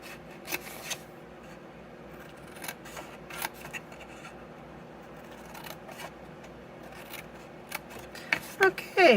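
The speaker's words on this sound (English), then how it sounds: "And then we're going to cut up on all of our score lines." Scissors cut through paper along score lines while making a Stampin' Up! birthday box, with repeated short snips and rustling close by and a quicker cluster of cuts at the end.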